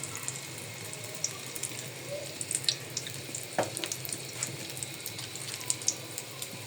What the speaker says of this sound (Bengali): দেখবো একটা ডিম ভাজতে আজকে আমাদের কতক্ষণ সময় লাগে।